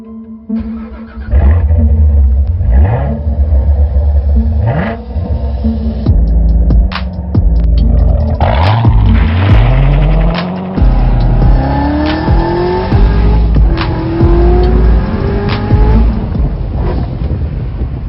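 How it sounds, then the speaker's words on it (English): A 2013 Audi RS5 engine revs loudly and drives up close, with rising and falling throttle sweeps, a deep throbbing idle and sharp gear-change bursts, with no talking. "my daily driven 2013 Audi RS5"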